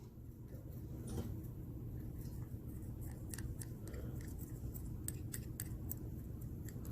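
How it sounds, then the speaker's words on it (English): A metal micro spatula breaks up a white solid in a lab container, giving a run of small, sharp scraping clicks and ticks over a steady low background hum. "We'll take our micro spatula and just break up this solid."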